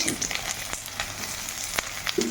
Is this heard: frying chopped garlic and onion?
yes